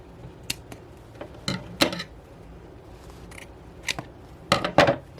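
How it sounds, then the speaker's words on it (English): Scissors snip into a crochet plushie to open it for its soft stuffing: quiet, irregular crisp cuts in small clusters, close up in an otherwise quiet room. "what I am going to do is cut open this plushie there"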